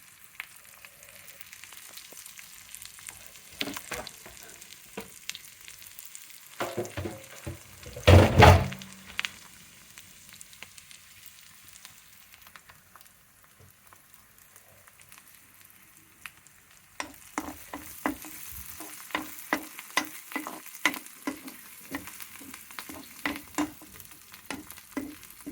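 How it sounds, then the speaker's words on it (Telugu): Ivy gourd and brinjal fry in a pan with a faint, steady sizzle, broken by a loud clatter of stirring midway and later by repeated scraping stirs against the pan. "బాగా వేగాలండి. ఇది కొద్దిగా ఎర్రగా వేగాలన్నమాట."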